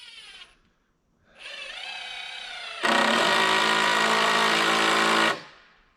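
A power driver screwing into a 4x6 top plate on a wooden greenhouse frame: a short whir, a pause, then a longer rising motor whine and a loud, steady high-pitched drive burst, near and alone.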